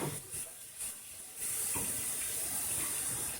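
Boiling water from a kettle poured over a kitchen sink and its handles, a steady close hiss and splash of running water that swells louder after a softer, broken start.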